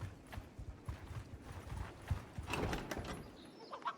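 Horse hooves clip-clop in the medieval video game Mount & Blade 2: Bannerlord, a quiet, steady trotting rhythm with no talk.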